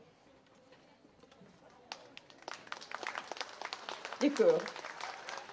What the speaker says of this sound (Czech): Abyste je podpořili a zatleskali